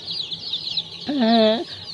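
Local desi chicken chicks peep in a continuous high twitter, close by, and one louder drawn-out call rises and falls briefly in the middle.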